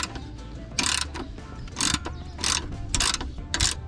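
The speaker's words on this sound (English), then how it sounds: "now we got to tighten everything up." Bolts on a 2021 Can-Am Maverick X3 shock absorber are tightened with a ratchet. Close, steady mechanical clicking runs throughout, broken by several sharper bursts of ratcheting.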